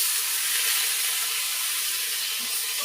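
Steady hissing sizzle as tomatoes and chillies hit a hot pan with onion and ginger in a home kitchen, loud and continuous, with no talking.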